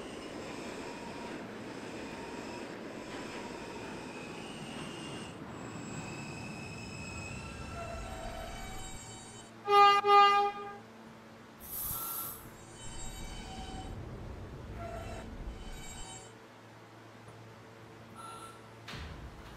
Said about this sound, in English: This is a Georgian Avenue bound N train.